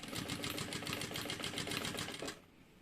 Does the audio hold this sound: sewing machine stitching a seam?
yes